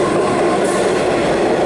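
Melbourne suburban train pulls out of Clayton station, a loud, steady rolling rumble of wheels and carriages passing close by.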